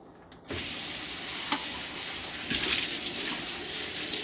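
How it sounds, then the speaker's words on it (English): Tap water runs steadily over onions, a cutting board and a knife in a home kitchen, a continuous close hiss that swells louder partway through as items are rinsed under the stream. "I'll go ahead and rinse the onions and the board and the knife"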